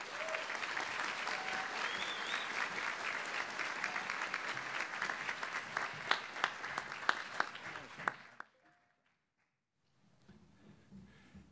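A graduation audience applauds the class of 2022 in a sustained wash of clapping with a few sharper claps standing out, cutting off abruptly near the end into quiet room noise.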